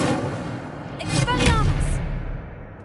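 In Hogwarts Legacy on PS5, the Incendio fire spell goes off in a loud, close, booming whoosh about a second long, with a voice shouting over the blast.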